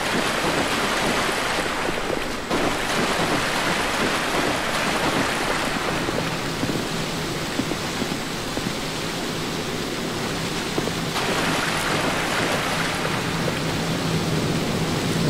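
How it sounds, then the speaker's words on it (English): Steady rain in the video game Dark Souls II hisses throughout at an even, moderate level, with no talking and only slight shifts in texture. "I guess it's just raining"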